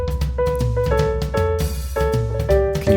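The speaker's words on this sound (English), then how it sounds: "I took that piano track and I shifted it up" A piano and drum track, with the piano pitch-shifted up four notes, plays clear sustained chords over steady kick and cymbal hits, with no voices.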